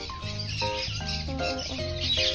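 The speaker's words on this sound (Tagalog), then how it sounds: "Nag-away ang mga manok." Several chickens fighting cluck and squawk close by in quick, overlapping bursts, with a steady background hiss.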